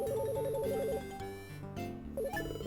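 A phone rings in the retro-style video game Retro Game Challenge 2, a chirpy repeating electronic trill over busy chiptune music, cutting out and returning briefly near the end.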